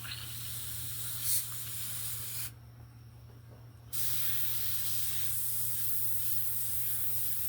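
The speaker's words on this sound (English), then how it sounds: "I think my airbrush is being fucking difficult." Airbrush spraying paint for a model kit, a soft continuous hiss with a steady low hum underneath, briefly cutting out in the middle before resuming, close but quiet.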